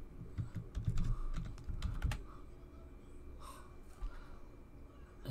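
Fingers tap out a password on a computer keyboard, a quick flurry of close clicks and key presses that thins into a few scattered taps, with some breathing in the background.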